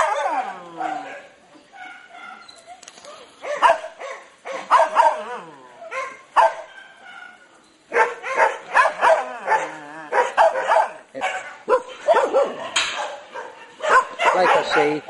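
Many dogs bark, yip and whimper in outdoor kennels at a rescue facility in the Philippines, a busy overlapping chorus of near and farther voices with someone talking over them.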